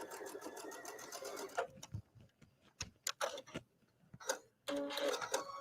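A sewing machine runs a stay stitch along a zipper seam, whirring in several short bursts separated by pauses and small clicks as the fabric is lined up, fairly close and clear.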